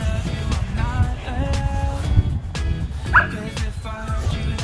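A dog in a park barks and whimpers close by with short yips and whines, scattered over a few seconds among outdoor background noise and faint human voices.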